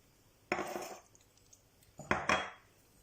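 Seasoning for pork patties tipped into a bowl, two short bursts of clinking and rattling against the bowl, close and otherwise quiet.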